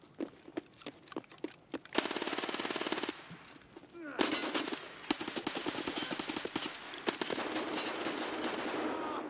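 Rapid automatic gunfire in an online shooter video game, loud bursts of rattling shots alternating with single cracks and brief pauses, close and dominant across the whole stretch.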